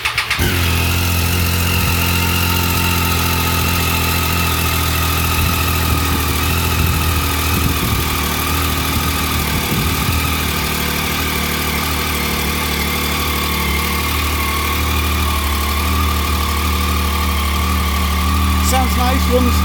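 A Triumph Street Triple motorcycle engine, unused for a while, starts from cold and settles into a steady, smooth idle, a loud close continuous hum with a low throb throughout, and someone talks briefly over it.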